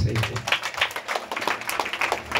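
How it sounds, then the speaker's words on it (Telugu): Audience at a Christian assembly fasting-prayer festival gathering in YSR Nagar clapping loudly together, a dense run of hand claps with uneven rhythm, close and steady for a couple of seconds. "బిగ్గరగా చప్పట్లు పడదామే"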